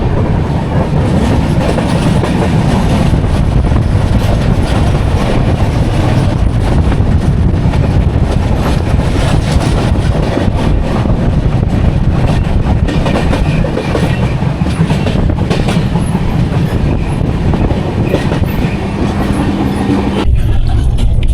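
The Sairang Express rumbles along the rails toward New Haflong Junction, a loud, continuous roar of wheels and carriages with steady clickety-clack and wind buffeting throughout.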